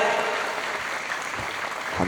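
An audience at a lively Indonesian religious sermon bursts into steady, dense applause that fills the space for a couple of seconds, with faint voices under the clapping.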